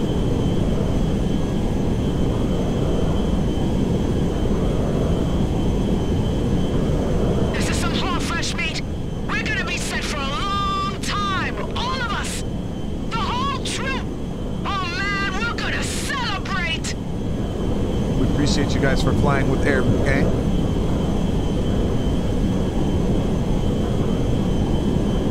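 An airplane in Grand Theft Auto 5 on a flight near Sandy Shores, giving a steady, loud engine drone throughout while a voice speaks over it in the middle.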